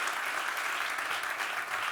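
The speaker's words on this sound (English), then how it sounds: "Another round of applause." Continuous applause from a conference audience at a digital festival, a dense, even roar of many hands clapping at moderate distance.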